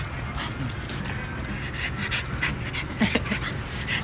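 A dog pants close by in quick, steady breaths, with a faint whimper-like catch near the end over a light outdoor background.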